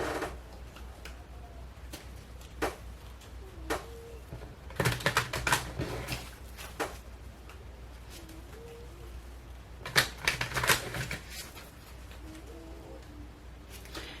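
Fortune telling cards are shuffled in two short, crisp bursts of papery riffling separated by a long quiet stretch, close and fairly soft against a still background.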